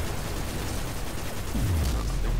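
Heavy gunfire and a deep booming rocket blast from a rocket launcher in the Destiny video game, Prison of Elders arena, a dense continuous barrage with a low rumbling explosion swelling near the end.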